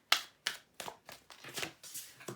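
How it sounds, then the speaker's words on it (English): Tarot cards shuffled by hand in a quiet room, a series of soft, crisp riffling bursts in a quick uneven rhythm, close and faint. "we'll call time on shuffling"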